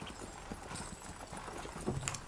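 Horse hooves clip-clop in a video game, a steady, soft walking rhythm of hoof strikes heard fairly close with faint background ambience.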